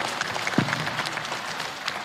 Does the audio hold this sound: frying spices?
no